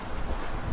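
Steady wind roars around a sailboat at sea on a night passage toward Naxos, a broad rushing noise with gusty buffeting and faint water wash, no voices.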